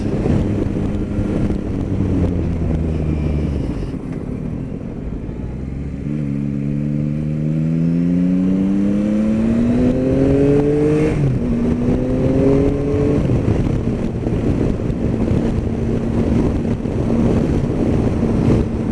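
Onboard a Yamaha Tracer 9 motorcycle on twisty country lanes, the engine hums and rises through several revving gear changes under a constant loud roar of wind buffeting the microphone.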